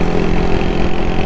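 An old Japanese Honda motorcycle engine runs at a steady idle, a loud, close, continuous thrum with no breaks.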